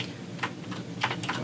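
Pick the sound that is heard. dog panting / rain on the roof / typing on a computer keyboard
typing on a computer keyboard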